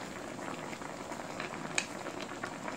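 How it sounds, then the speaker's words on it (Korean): Braised cutlass fish with radish, seasoned with red pepper flakes, bubbles in a pot at a gentle steady simmer, with soft continuous burbling and a single louder pop. "이렇게 해서 푹 끓여주면은 갈치가 완성됩니다. 지금 끓고 있거든요."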